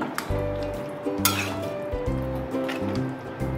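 A lid clinks onto a pot of cooking mutton, with a few light metallic clinks and scrapes close by against a steady background hum, fairly quiet.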